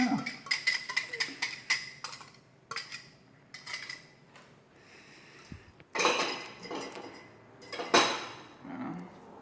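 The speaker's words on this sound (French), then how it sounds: "Et vous mélangez le tout." A utensil clinking and scraping against a bowl while sweet potato cake batter is mixed, rapid rhythmic taps at first, then scattered knocks and louder scrapes, close by with no talking.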